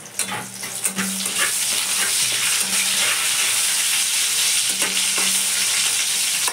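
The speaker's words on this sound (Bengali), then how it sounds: "এই যে জিরে, শুকনো লঙ্কা, তেজপাতা ফোড়ন, দেখেছো ফাটাটা কম হলে" Cumin seeds, dried red chilli and bay leaf tempered in hot oil for a bottle gourd dal, a loud, steady sizzle with crackling spits and stirring scrapes, close up and continuous, no voices.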